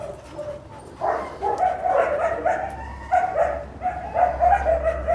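Several dogs bark and whimper nearby as a newcomer moves among them, giving a continuous run of yips, barks and whines over a rumbling background.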